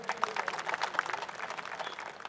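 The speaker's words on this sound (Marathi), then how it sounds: "आपण टाळ्या वाजवल्या" A crowd claps at a Shiv Sena party rally in Navi Mumbai, a burst of rapid overlapping applause at moderate distance that gradually thins out over a couple of seconds.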